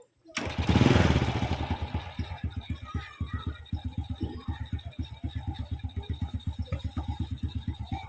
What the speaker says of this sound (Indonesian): Untuk kondisi mesin saat hidup itu lumayan halus